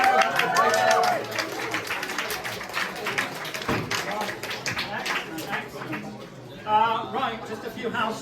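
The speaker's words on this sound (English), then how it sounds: "Big round of applause." An audience at an animation showcase screening gives a round of applause, a burst of scattered clapping that tapers off amid chatter, with someone speaking over it.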